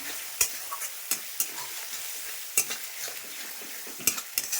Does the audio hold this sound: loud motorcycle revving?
no